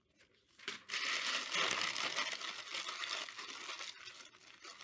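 Thin newsprint paper crumpled by hand, a close, crisp crinkling that swells after a short quiet start and carries on steadily, with no talking.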